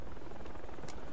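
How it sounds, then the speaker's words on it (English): Helicopter rotor noise in the military shooter game Project Reality, a steady broadband thrum of a friendly chopper coming in, loud and continuous across the whole moment with no talk over it. "A friendly chopper coming in."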